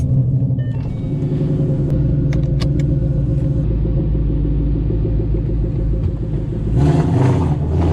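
A boosted Ford Mustang engine rumbles loudly and deeply at close range, a steady throaty idle with a slight swell and rev near the end.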